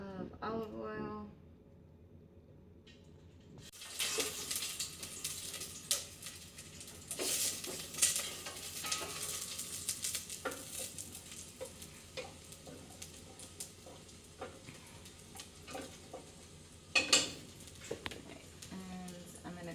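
Garlic sizzles in olive oil in a hot pan, a steady close crackling hiss that starts abruptly and carries on with occasional stirring scrapes and clinks, while a person talks over it at times.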